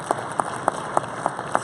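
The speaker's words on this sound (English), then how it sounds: "Claps for all of them." Sparse, evenly spaced claps ring out about three per second in the audience at Hyundai's 2019 Detroit Auto Show presentation, crisp and distinct over a quiet hall murmur.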